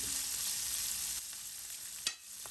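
Green chilies frying in a pan: an even, hissing sizzle fills the clip, softening midway, with a single sharp clink of a utensil near the end.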